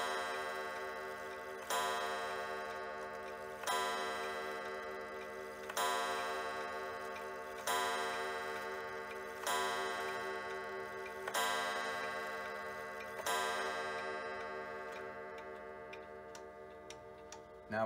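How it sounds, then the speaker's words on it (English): A Centurion 35 day wall clock chimes seven times in a slow even rhythm, each ringing strike decaying before the next, with quiet ticking underneath and the last chime fading into silence. "I'll let you guys hear what it sounds like, because after we're done winding, the chimes are going to be a little bit faster"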